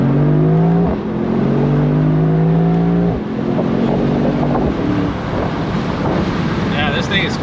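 A 2024 Mercedes SL63 AMG accelerates up a highway on-ramp, its engine note rising in steady pulls with a brief shift break, heard from inside the cabin under wind noise.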